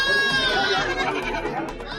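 Goats bleat repeatedly at a busy livestock market in Valliyur, Tirunelveli district, with several wavering, overlapping calls rising over the crowd's background murmur and people's voices throughout.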